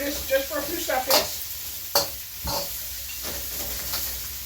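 Five-spice pork chops and bok choy stir-frying in a wok, a soft steady sizzle broken by a few sharp scraping clatters of the spatula against the metal, close and alone.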